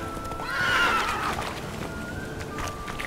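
A horse neighs and whinnies with clip-clopping hooves in the video game The Witcher 3: Wild Hunt, a loud whinny up front followed by steady hoofbeats under faint background sound.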